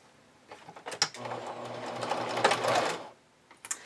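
A sewing machine stitches the side seams of a vintage-style bra in one short burst of rapid, close needle chatter lasting about two seconds, with soft fabric handling before and after.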